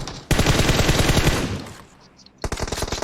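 Loud, close automatic gunfire in the video game PUBG Mobile: a long rapid burst, a brief pause, then another burst.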